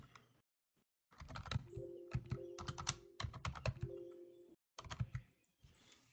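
Rapid keystrokes on a computer keyboard in bursts with short pauses, close and fairly clear, no talking.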